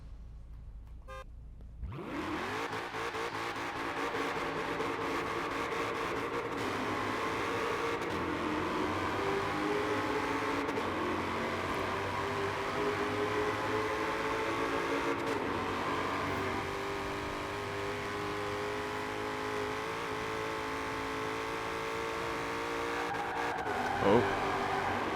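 A 1968 Mustang in Forza Horizon 4 fires up and holds a steady, droning engine note close by, which climbs slowly and shifts pitch for over twenty seconds.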